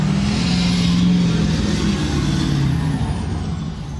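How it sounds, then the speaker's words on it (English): A diesel truck rolling coal drives past, its heavy engine a loud, close, steady low roar that fills the moment and eases only slightly at the end. "The same truck. Rolling coal."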